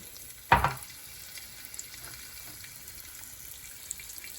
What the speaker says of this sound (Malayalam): കുറച്ച് കരിവേപ്പില ഇട്ടു.